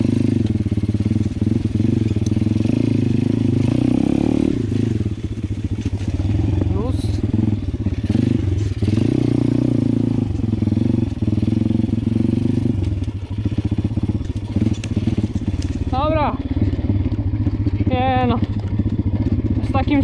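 A motorcycle engine chugs and revs continuously up close, rising and falling with throttle changes, with a voice talking over it near the end.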